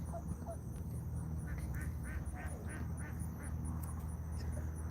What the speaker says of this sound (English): Ducks out in that distance making noise.